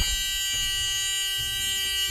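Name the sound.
school bus emergency exit door alarm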